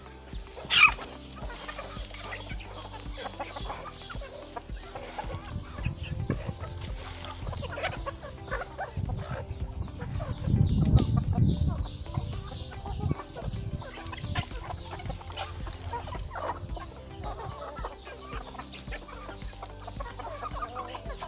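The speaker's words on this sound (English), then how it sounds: "actually, this is how we feed the chickens." Chickens at a village home cluck continuously while being fed, a busy flock of overlapping clucks and murmurs close by, with a louder burst of activity midway and no one speaking.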